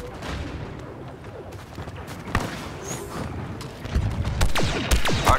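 In a Star Wars Battlefront II multiplayer battle, a thrown grenade goes off amid sustained blaster fire and booms, the bursts sharpening and growing louder toward the end of a dense, chaotic mix.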